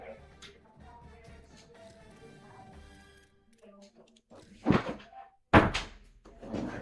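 A door shuts with a couple of loud thunks after a stretch of background music and voices, the impacts close and sharp.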